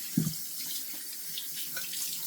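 Cold tap water runs into a sink while dandelion soap is rinsed off skin, a soft steady stream with a brief splash at the start, close and quiet, no voices.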